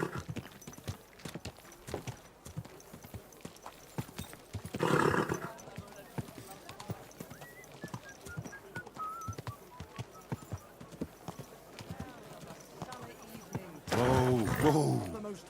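A horse's hooves clip-clop steadily at walking pace in the medieval video game Kingdom Come Deliverance 2, with two louder snorting or whinnying bursts and occasional speech over the rhythm.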